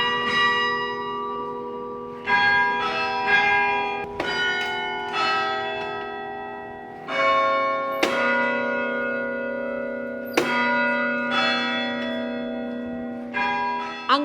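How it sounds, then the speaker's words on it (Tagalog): St. Clement's carillon bells, struck by hand from a large wooden keyboard, ring out a slow sequence of loud single strikes, each note hanging in a long shimmering decay that overlaps the next. "Hindi katulad sa ibang carillon bells na electronic na. Ang sa St. Clement's, mano-mano pa ring pinapalo ni Jan Jan."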